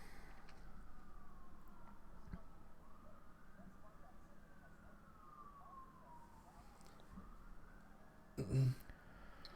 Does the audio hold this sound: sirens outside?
yes